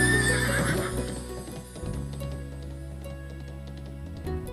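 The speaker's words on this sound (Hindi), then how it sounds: "तो बूंगरी बाई भी लीलन घोड़ी ने आवती देख" A mare gallops up with steady clip-clop hooves under a loud whinny and neigh, set against a continuous sustained musical drone in a staged folk tale scene.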